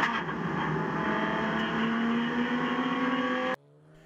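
Race cars roll off at Virginia International Raceway, their engines forming a loud, sustained drone that climbs gradually in pitch before cutting off abruptly near the end.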